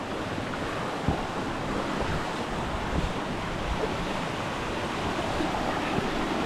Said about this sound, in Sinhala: අපි ඇවිල්ලා තියෙන්නේ දැන් පොඩි වතුර පාරක් ක්‍රොස් කරන් තියන්න.